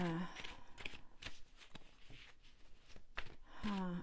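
Tarot cards shuffled and pulled from a deck, a brisk run of papery riffles and flicks close by, with brief speech at the start and end.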